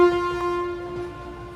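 A train horn blares at a railway station, one long steady loud tone sounding throughout with a brief swell near the start, over low rumbling rail noise and no talking.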